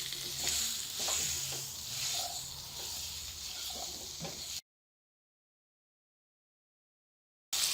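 Spices stirred into potatoes for a samosa filling in a pan make soft scraping, sizzling strokes for a few seconds, then drop to silence before the sound briefly returns.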